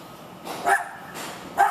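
A dog barks twice, sharp and fairly close, with a quiet pause between the barks.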